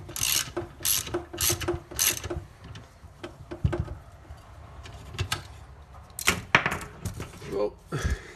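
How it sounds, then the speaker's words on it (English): Ratchet wrench with a 1/2-inch socket loosening the 1/2-inch bolts holding a power window motor on a 1973-87 GMC truck door, with bursts of rapid clicking pawl strokes, then scattered metallic clanks and handling noise close by. "take your 1/2-inch socket, and these are all 1/2-inch bolts, and these will release this motor"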